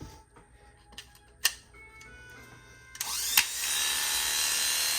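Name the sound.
electric hair clipper running with freshly sharpened blades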